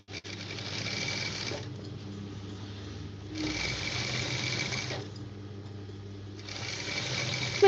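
Sewing machine stitching down a folded silk edge, running in three steady bursts separated by short pauses, close and fairly loud with no talking.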